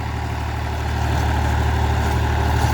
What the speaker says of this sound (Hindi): और भाइयों ट्रैक्टर जो है लेके लो गियर में चल रहा है, लगभग आरपीएम है 1500।